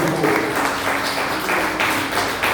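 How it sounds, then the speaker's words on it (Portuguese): A church congregation breaks into applause for the name of Jesus after a sermon: a broad wash of many hands clapping together, steady and moderately loud throughout. "Aplauda o nome de Jesus pela palavra que você recebeu"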